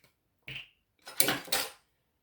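A spoon clinks against a bowl while glycerin is added for a homemade lotion, first a single light tap and then two brighter metallic knocks close by in a quiet room.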